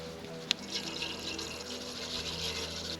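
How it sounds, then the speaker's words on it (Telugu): Water is poured into a pan of oil and sugar while making moong dal dhokla, a soft steady trickle and splash after a single sharp clink, quiet and close with no talking. "నీళ్ళు పోస్తున్నాం."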